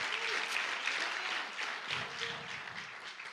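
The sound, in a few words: congregation applauding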